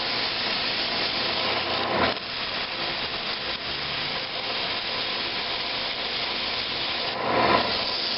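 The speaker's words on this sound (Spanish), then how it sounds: "Y luego con una lija" Steady, continuous rasping of sandpaper rubbing over a turned wooden tool handle, close by, with brief louder strokes near the start and end.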